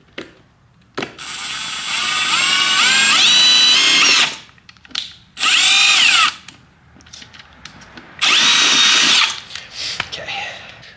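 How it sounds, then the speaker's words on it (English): Power drill boring a hole while modifying a 2025 BMW M2, loud close-up whirring bursts that rise in pitch, separated by pauses, with brief voice and handling noises between the runs. "I'm just going to drill a hole real quick"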